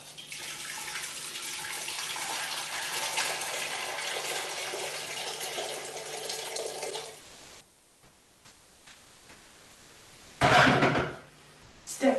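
Previously boiled water pours steadily for about seven seconds while preparing a dye bath, a continuous splashing flow that stops abruptly, followed by quiet and a short loud burst near the end.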